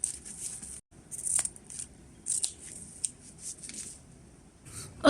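Scissors snipping through ribbon for a ruffle table skirt, several short crisp cuts in quick bursts, close and fairly quiet, with no voices.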